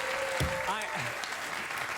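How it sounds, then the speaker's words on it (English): A talk-show studio audience claps in a steady wash of applause, with voices talking over it. "They saw a window to clap and they clapped."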